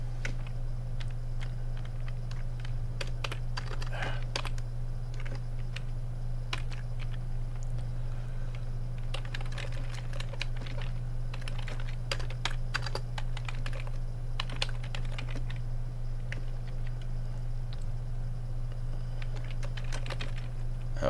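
Steady computer keyboard typing while coding 6502 assembly language, with irregular clusters of clicky keystrokes over a constant low electrical hum, close and fairly quiet, no talking.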